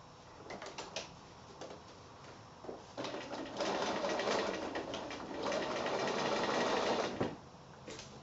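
A sewing machine stitches around the eyelid of a giraffe wall hanging quilt in short bursts. A longer steady run follows at moderate loudness, then the stitching stops and a few soft clicks are heard.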